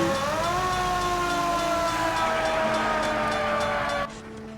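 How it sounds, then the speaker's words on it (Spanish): A fire truck siren in a video game wails loudly in a steady tone with layered harmonics, gliding slightly lower before cutting off sharply near the end. "Y voy a ensayar con un camión de bomberos."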